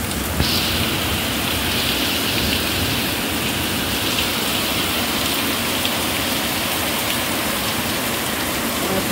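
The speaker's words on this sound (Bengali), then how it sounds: "বাইরে দেখো কীরকম মুষলধারে বৃষ্টি হচ্ছে।" Heavy monsoon downpour pouring steadily outside a house during a storm, a dense continuous hiss of rain close by and loud throughout, with no pauses.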